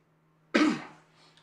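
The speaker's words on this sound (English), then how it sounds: "So if I cough from time to time, my apologies." One sudden, close cough from a man in a quiet courtroom hearing who is getting over a mild respiratory illness, fading quickly into a low steady hum.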